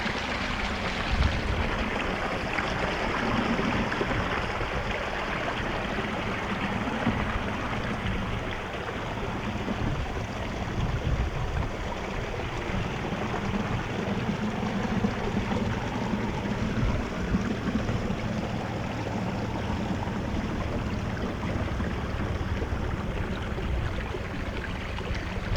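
A small backyard pond stream with little waterfalls flowing, a dense steady rush and splash of water nearby that stays constant throughout, with no voices.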